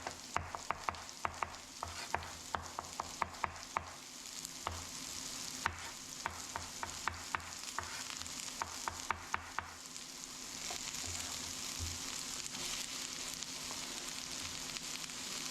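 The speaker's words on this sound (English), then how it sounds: "Give this a little stir." Onions, green pepper, zucchini and mushroom sizzle steadily in a pan as a utensil stirs and taps with rapid clicking scrapes, then settles into continuous frying, close and quiet, with no talking.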